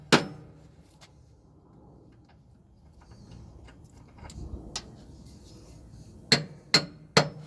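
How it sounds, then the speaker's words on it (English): A hammer strikes a stuck torque rod bolt on a Freightliner Cascadia semi truck, with a sharp metallic hit at the start, a few lighter taps, then three loud evenly spaced blows near the end, close and alone. "So we're gonna be hitting it with this hammer."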